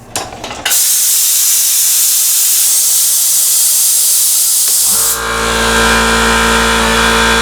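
A VEVOR 10-gallon 2HP air compressor hisses loudly and steadily with rushing air for several seconds. The motor then kicks in with a close, continuous droning hum that runs to the end.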